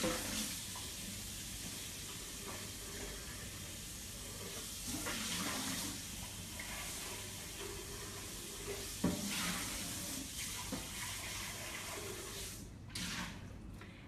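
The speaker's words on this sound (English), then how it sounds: "I'm just going to wash this to prepare it for our next smoothie" Running water washes out a Vitamix blender jar in a home kitchen, a steady hiss and splash that carries on for the whole stretch with a few sharper knocks and sloshes.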